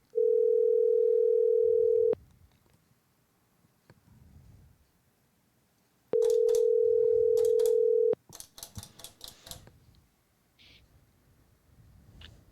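A telephone ringback tone sounds while a call is being placed, two long steady beeps separated by a pause of silence, followed by faint rustling and brief clicks.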